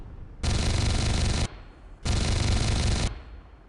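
Two sustained bursts of helicopter cannon fire from the Comanche 4 video game, each lasting about a second, loud and close with a brief pause between them and a fading tail after the second.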